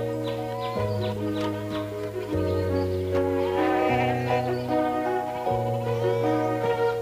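Cartoon goats bleat repeatedly in a 1990s animated Heidi scene, with long wavering calls that rise and fall over sustained background music.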